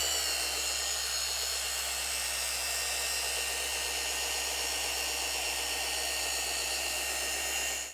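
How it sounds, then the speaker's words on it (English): A car polisher fitted with a medium wool pad works fine polish on the roof of a rare twin-turbo BMW, a steady high motor whine held at constant pitch, close and loud, cutting off abruptly at the end. "to tackle the entire car with the fine polish and the medium wool pad"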